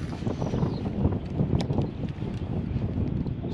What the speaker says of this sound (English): It's really windy out here, so hopefully it doesn't mess up the audio too much.